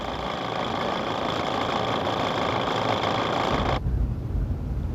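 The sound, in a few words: portable electric tire pump running, plugged into Jeep cigarette lighter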